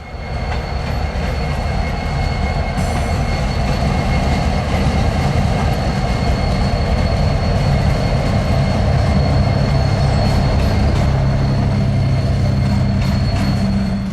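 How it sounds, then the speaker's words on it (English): A Montana Rail Link or BNSF freight train with light engines rumbles steadily nearby with a deep engine drone and rolling wheel noise, occasional faint metallic squeals above the continuous roar. "the crew would leave the train in between two turnouts and take the light engines to run around it"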